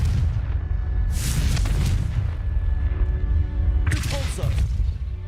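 A Confringo blasting spell in Hogwarts Legacy, two bright, crackling explosive bursts about three seconds apart over a steady low rumble of game sound, close and loud.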